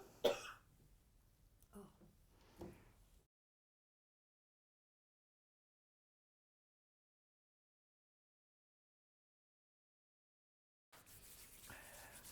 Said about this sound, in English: so sorry about that, bit quick cough.